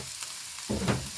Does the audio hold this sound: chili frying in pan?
yes